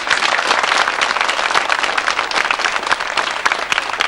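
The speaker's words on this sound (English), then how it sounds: "Please just give your appreciation once again by giving a clap." An audience at an AIDS awareness rally claps steadily and loudly for about four seconds, a dense, continuous wash of many hands with no voices.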